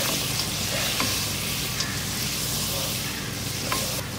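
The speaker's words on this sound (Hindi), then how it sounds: "लहसुन अदरक डाल के 2 मिनट मैंने इसकी भुनाई कर ली है" Mutton pieces frying in oil with garlic ginger paste, a steady close sizzle with occasional soft stirring clicks throughout.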